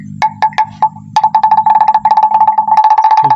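A hollow wooden cattle bell clonks in a steady, rapid rhythm, close and loud, with a few slower knocks at the start before settling into a continuous clatter.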